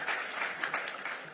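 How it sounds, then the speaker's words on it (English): Audience in a conference hall applauds their managing director at a 2025 occupational safety and health conference, a steady, dense wash of many hands clapping throughout the short burst. "give our MD another round of applause."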